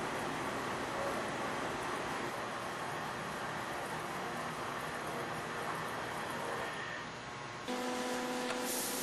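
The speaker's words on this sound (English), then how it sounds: "This shows the traversing side of the machine moving to position." A CNC-controlled pillar machine shifts its traversing side into position with a steady, dense mechanical whir and hum throughout. The tone changes near the end as the motion stops or switches.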